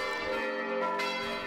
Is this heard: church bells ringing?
yes